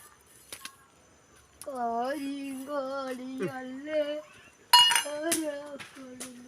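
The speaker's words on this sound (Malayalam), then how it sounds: "നന്നായി ഇളക്കി കൊടുക്കാം" A spoon stirs sweet payasam with cardamom in a metal pot, giving a few scattered sharp metallic clinks and scrapes against the pot while a voice sounds over it.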